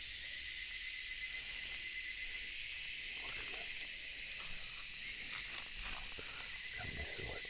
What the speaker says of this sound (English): The cicadas are going off again, like.